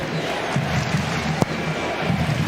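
Home fans at a Subaru Park soccer match, Philadelphia Union against Columbus Crew, roar as a steady, dense crowd wash with swelling cheers and a sharp thud partway through.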